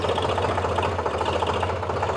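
A tractor engine runs steadily in a wet, muddy field, a continuous mid-pitched chugging with a knocking rhythm, close and fairly loud, with no talk over it.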